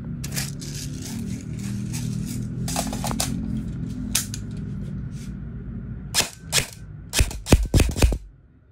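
An E&C HK416 airsoft electric gun fires close by during a chronograph test, giving sharp clicking shots, first in scattered singles and then in a few quick, louder bursts toward the end, over a steady low mechanical hum.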